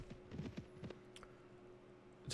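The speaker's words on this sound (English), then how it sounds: "That's a noisy horse you've got there." Horse hooves clip-clop in the video game Mount & Blade: Warband, a few quick soft hoofbeats close by early on, then fading into quiet.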